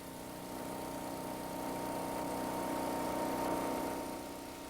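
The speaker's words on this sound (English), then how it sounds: "These logs are from native woodland and are being sawn on a portable saw bench called a wood miser." A Wood-Mizer portable saw bench sawing native woodland logs, its engine droning steadily at mid distance with a continuous hum that swells slightly partway through, no voices.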